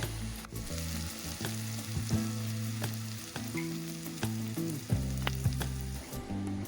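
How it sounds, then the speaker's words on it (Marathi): Green chili kharda sautéing in hot oil in a pan, a loud, close, continuous sizzle with the scrape and clink of stirring, no talking. "हे थोडंसं गरम तेलामध्ये हा परतला की"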